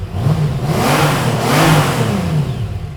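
An 1800 cc motorcycle engine with its original exhaust idles close by, a low rumbling throb that swells and dips unevenly.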